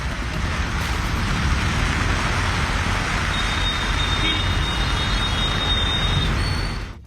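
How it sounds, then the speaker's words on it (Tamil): Heavy rain pours down in Chennai, a dense, loud, unbroken hiss of falling water with faint road traffic beneath it, steady for several seconds before cutting off. "புரசைவாக்கம், பெரம்பூர், ஓட்டேரி உள்ளிட்ட பகுதிகளில் கனமழை பெய்தது."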